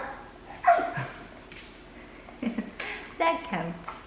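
A dachshund puppy barking on command during trick training, giving a few short sharp yips spaced apart, mixed with a voice speaking close by.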